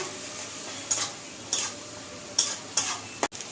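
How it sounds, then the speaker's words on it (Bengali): Soaked cumin powder paste is stirred and fried in a pan, soft steady sizzling with four brief scraping stirs spaced through the short stretch, close and fairly quiet. "জিরেকে জলে গুঁড়োকে জলে ভিজিয়ে রেখেছি এই দেখো দিয়ে এটাকে কষবো একটু"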